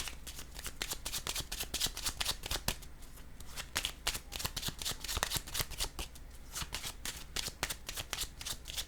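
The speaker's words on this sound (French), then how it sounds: "je vais déposer une carte sur le mot « aimer »." Playing cards handled and set down on a table, a rapid series of close, crisp slaps and riffles in irregular bursts throughout.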